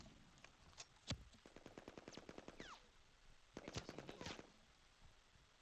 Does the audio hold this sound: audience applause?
no